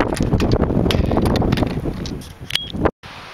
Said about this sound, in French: Il fait très froid, le vent souffle.